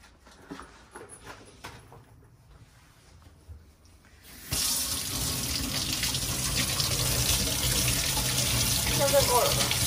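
White strawberries being washed under a running kitchen tap, quiet handling sounds and voices at first, then a sudden steady loud gush of water into the sink that continues to the end.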